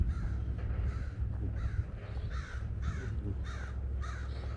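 Crows outdoors on a nature walk, a rhythmic series of about six harsh caws, evenly spaced and fairly close, over a constant low outdoor rumble.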